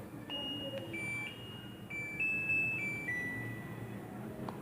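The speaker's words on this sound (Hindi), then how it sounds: "तो जैसा कि आपने देखा कि इसने बीप दे दी है" A Dawlance DWT260C fully automatic washing machine powers on with a short series of clear electronic beeps at different pitches, close and distinct over a quiet room hum.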